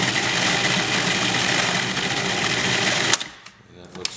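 A blender whirs steadily through chickpeas being puréed into hummus, then cuts off abruptly, leaving quieter handling clicks; someone talks alongside.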